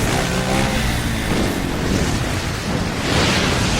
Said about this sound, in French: Death Gun survit à cette explosion.